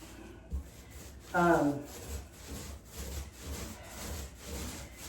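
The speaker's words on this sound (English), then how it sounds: "paint there on my hand, so wiping it off real quick" Quick rhythmic rubbing strokes as splattered paint is wiped off a hand during a bedroom painting job, with a brief squeaky tonal burst partway through and faint voices in the background.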